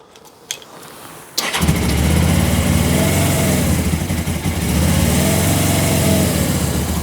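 A Suzuki GS500E motorcycle engine cranks and fires, then settles into a loud, steady rumbling idle with a few throttle swells, close by.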